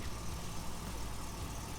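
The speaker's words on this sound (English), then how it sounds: "Listen how smooth and quiet this engine is running" Buick Regal Grand National engine idling smoothly and quietly, a steady low rumble that holds even and unbroken throughout, with no voices over it.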